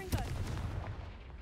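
A Confringo blasting spell from the Hogwarts Legacy video game fires off as one sharp, booming burst near the start, then leaves a rumbling low tail that fades over the next second or so, with faint background game sound.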